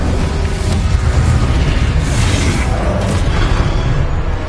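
Incendio fire spell in Hogwarts Legacy, a loud sustained roaring whoosh of flame with booming low rumble and crackling bursts throughout, close and steady with no speech.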